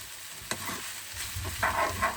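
Vegetable noodles get tossed and mixed in a hot pan, with soft scraping and clattering stirs over a faint, quiet sizzle, and a louder rustling burst near the end.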